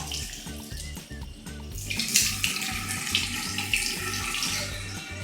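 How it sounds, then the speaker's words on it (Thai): Running water from a tap splashes steadily as a face is rinsed with the hands, close and fairly faint, a continuous wash of water with small splashy shifts. "เดี๋ยวเราล้างน้ำออก"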